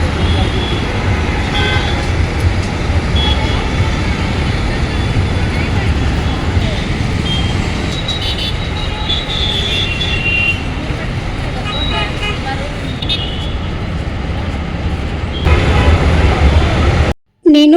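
A bus rolls along the road near the Uppal ring road in Hyderabad, giving a constant engine and road rumble inside the cabin, with a few horn toots from surrounding traffic and muffled voices in the background.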